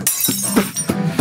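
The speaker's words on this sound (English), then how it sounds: "I'm gonna use this glass break sound like a cymbal." A glass-break sound effect is played like a cymbal, giving four sharp shattering crashes spaced unevenly across about a second, each a bright burst that quickly fades.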